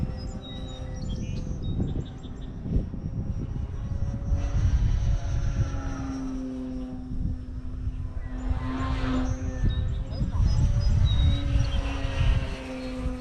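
An RC DeFLATlon model airplane flies overhead, its electric propeller whine rising and falling in pitch as it passes near and away, fairly loud, with birds chirping in the background and no talking.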